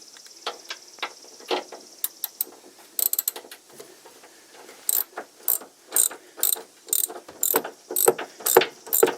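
A ratchet wrench works a 1/2 inch self-locking nut during a SumoSpring installation, giving close, sharp clicking strokes, sparse at first and then in faster regular bursts.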